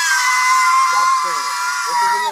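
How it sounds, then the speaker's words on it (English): A woman screams continuously in a loud, piercing, sustained wail during a police encounter, with people talking faintly underneath. "Stop screaming."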